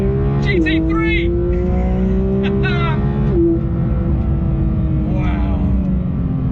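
A 2026 Porsche 911 GT3 Touring's naturally aspirated 4-litre flat-six revs hard on the Dunsfold Aerodrome track, a loud, close, sustained engine drone with rising pitch sweeps at gear changes, a voice talking over it.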